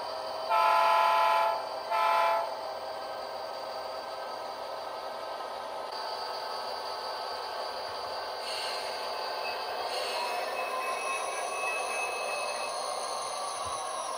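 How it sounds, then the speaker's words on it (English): A small DCC-controlled model train hums along its track with faint whirring, preceded by two short bright horn toots near the start; no voices. "Now let's run some trains"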